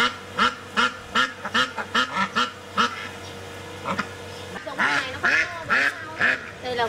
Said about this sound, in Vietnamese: vịt này là vịt đấy rồi